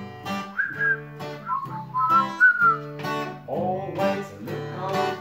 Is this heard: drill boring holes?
no